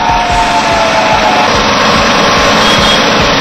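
Motorbike engines rumbling loudly and continuously at India Gate as young bikers race and perform stunts, a dense low throbbing roar of several machines with no speech.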